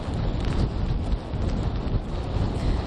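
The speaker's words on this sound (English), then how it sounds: "it's pretty windy out here" Strong Hurricane Irma wind at Litchfield Beach roars steadily into the microphone, a constant heavy buffeting rumble with no pauses.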